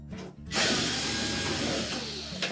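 A power driver backs screws out of the top panel of a Samsung washer, whirring loudly and steadily at close range for about two seconds after a brief click.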